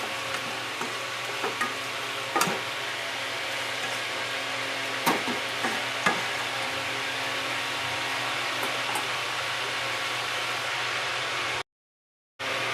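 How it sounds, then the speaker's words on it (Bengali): Chicken pieces sauté in a hot pan for chicken kasha, giving a steady, dense sizzle with occasional sharp scraping knocks from the stirring utensil, then a short sudden silence near the end. "মাংসটাই কষানো হচ্ছে, দেখুন আপনারা"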